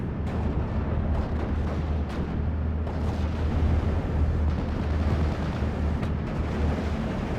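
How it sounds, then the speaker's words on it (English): A continuous artillery barrage pounds infantry in a forest in the Steel Division: Normandy 44 game, with dense overlapping blasts and a deep, unbroken rumble at steady high loudness. "All these reinforcements getting annihilated by that artillery."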